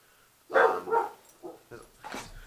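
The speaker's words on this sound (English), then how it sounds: "Dogs!" Dogs bark in a few irregular bursts, the first pair loudest, followed by quieter yaps and yelps at moderate distance.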